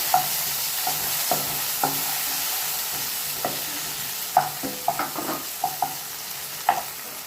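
Onion, tomato and green chili sauté in a pan, a continuous sizzle broken by repeated sharp scrapes and clinks of a stirring spoon, close and fairly loud, no talk.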